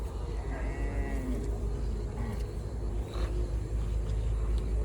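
Cattle, including Australian and Gir breeds, moo at the 300 Feet cattle market; one long, low moo rises close by over a steady crowd murmur and market bustle.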